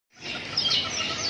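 Caged birds sing in a bird shop stocked with cockatiels, lovebirds, skylarks, white-cheeked laughingthrushes and orioles; a continuous bright chorus of overlapping chirps and trills starts abruptly and stays steady and fairly close.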